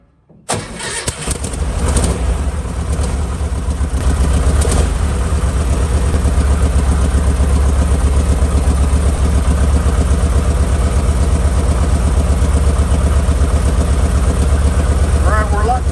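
A car engine fitted with a Pertronix electronic ignition starts with a quick crank and catches, then idles steadily and loudly up close for the rest of the time, with a faint voice briefly audible under it.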